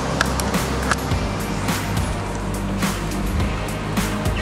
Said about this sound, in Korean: 여러분 바다 소리 들리시나요?